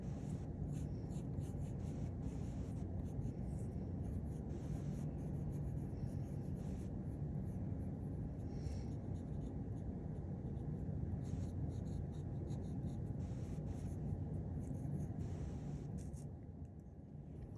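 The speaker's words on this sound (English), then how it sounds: "you want to draw longer ones and thicker ones and maybe press harder with your pencil" Pencil being drawn across paper, pressed hard to make longer, thicker strokes, a close, steady scratching and rubbing that continues without pause throughout.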